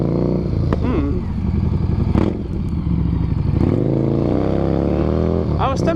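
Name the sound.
Harley-based Stormtrooper tracker motorcycle engine revving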